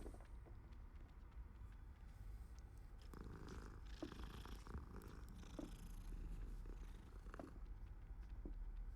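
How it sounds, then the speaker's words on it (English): A cat purring in the video game Hogwarts Legacy, a soft continuous low rumble that carries faintly throughout. "the cat's purring is coming on my controller"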